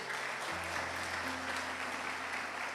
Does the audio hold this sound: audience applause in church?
yes